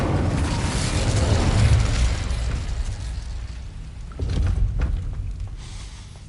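Incendio fire spell cast in Hogwarts Legacy, a low whooshing burst of flame that swells and fades, then a second rumbling burst a few seconds later, heard without any talk.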